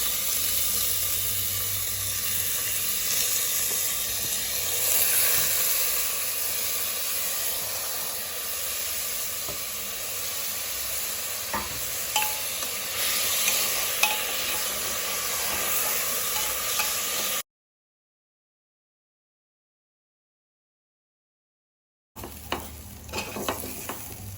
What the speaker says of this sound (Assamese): চাউলখিনি আমি অলপ ফ্ৰাই কৰি ল'ম